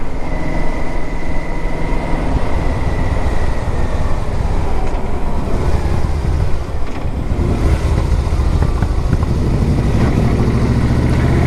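A 2006 Yamaha Royal Star Deluxe motorcycle being ridden makes a steady, loud low rumble of engine and road noise blended with constant wind buffeting, with no break across the ride.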